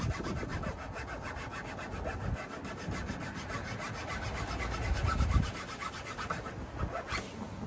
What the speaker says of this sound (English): Just how to show you the chainsaw file.